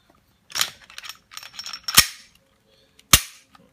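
A Glock 17 pistol being field-stripped by hand: close, dry metallic clicks and slides, with two sharp snaps standing out, then quiet.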